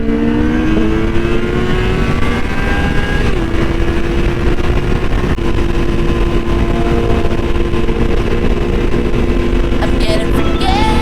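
A Suzuki Hayabusa motorcycle accelerating at high speed on the road: a loud, sustained engine howl with rising and shifting tones, heavy wind rush underneath, running throughout without talk.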